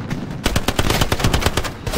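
Rapid automatic gunfire in a World War II shooter: a close, loud burst of evenly spaced shots cracking off in quick succession for about two seconds.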